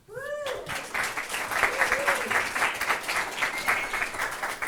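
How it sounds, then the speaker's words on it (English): Audience applause as a reverend is welcomed to speak at a gathering: steady, dense clapping that holds for several seconds, opening with a brief high vocal whoop. "I'm going to have to make that applause a ringtone on my phone"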